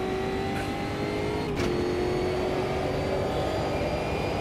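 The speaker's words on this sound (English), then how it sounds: "So we've got 3 laps in this monster of a machine with a massive V8." A massive V8 race car engine in the Automobilista 2 racing game drones steadily at close range, with a sustained tonal whine running above the constant engine roar.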